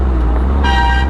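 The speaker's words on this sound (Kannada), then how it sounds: "ಯಾಕಪ್ಪ ಹಾರ್ನ್ ಹೊಡಿತಾರೆ?" A car horn toots once on the road near a Kawasaki Z650 ride, a short loud honk arriving in the last half second over a constant low engine and wind rumble.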